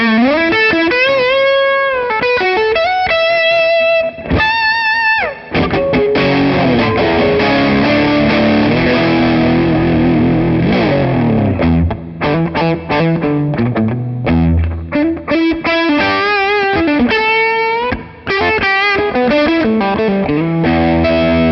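Stratocaster bridge pickup driven through an OTB Custom Boost for compression, a bright distorted electric guitar playing loud runs of quick picked notes, sustained bends and chordal stabs with a chorus-like shimmer, continuous and without talk.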